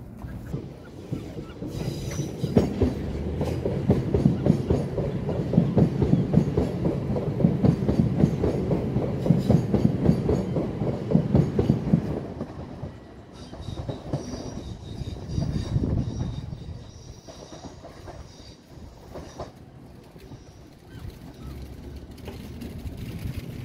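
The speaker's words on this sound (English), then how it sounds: "The battery locomotive stops." Battery locomotive running on London Underground track near Chiswick, a loud rumbling run with squealing wheels and rail clatter for about twelve seconds, then fading to quieter mechanical noise and intermittent squeals as it comes to a stop.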